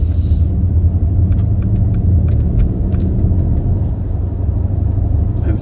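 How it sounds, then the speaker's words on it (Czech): Mercedes-AMG 63 engine heard from inside while driving, a steady, loud low rumble with gentle throttle, plus a few faint ticks and rattles in the cabin. "Opravdu je to zvuk auta, který prostě má koule, to je AMG 63 zvuk prostě."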